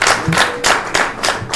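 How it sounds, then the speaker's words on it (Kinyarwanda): Guests at a Rwandan wedding ceremony clap in a brief, uneven burst of applause, close and moderately loud, with several distinct hand claps standing out. "ndumva umuryango rero baguha amashyi"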